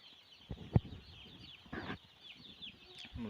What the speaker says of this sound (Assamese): মুৰ্গী দাউৰি আছে, যিখিনি ঠাণ্ডা লাগিছে